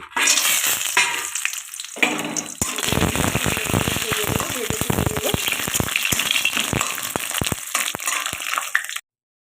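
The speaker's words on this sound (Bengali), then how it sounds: "এবারে আমি কী করব বড়িটা ভেজে নেব" Bori lentil dumplings fry loudly in hot mustard oil, a dense steady crackling sizzle with sharp pops and spatters throughout, near and continuous until it cuts off abruptly near the end.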